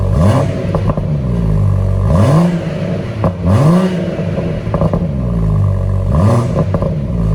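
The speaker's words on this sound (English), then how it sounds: "We've got a lovely sound to that engine." A BMW M140i engine with sport exhaust revs hard in repeated bursts, each rising and falling with a loud, throaty exhaust roar, close by.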